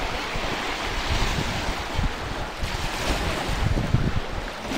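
Ocean waves surge and break on the shore in a steady, continuous roar, mixed with gusty wind buffeting the microphone; no voices are heard.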